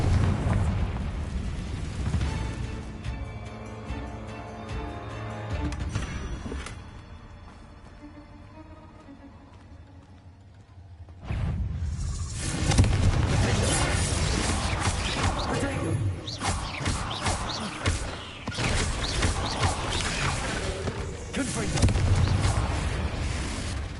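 Confringo fire-spell blasts in Hogwarts Legacy on PS5, heavy booming bursts that roll into a long, loud, dense rumble, easing briefly before erupting again and staying intense to the end.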